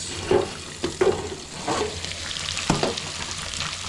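Beef sizzling and frying in a pot during a Kenyan githeri with beef stew cook, a steady close crackle with several louder stirring scrapes and bursts spaced through it, no voices.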